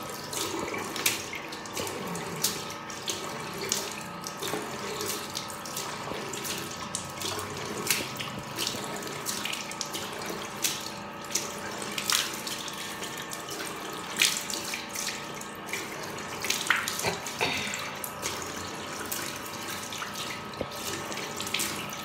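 A bathroom tap runs steadily for a long stretch as a face mask is washed off, a close, continuous rush of water broken by splashes and small clatters at the sink.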